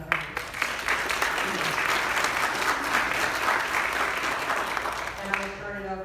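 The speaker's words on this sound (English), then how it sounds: "Let's give Ashley a round of applause." An indoor crowd at a campaign event breaks into a full round of applause, dense steady clapping sustained for several seconds before thinning at the end as a voice begins to speak.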